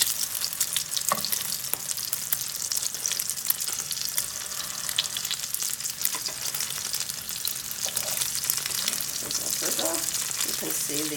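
Mozzarella fries in a pan with a steady, dense sizzle that holds evenly throughout, close up, with occasional faint scraping and pressing noises over the top.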